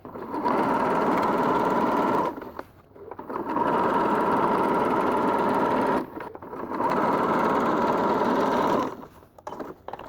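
A sewing machine stitches elastic onto a trouser waistband in three long runs of rapid, steady buzzing, each lasting a couple of seconds and separated by brief pauses, close and clear with no talking.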